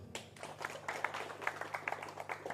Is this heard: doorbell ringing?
no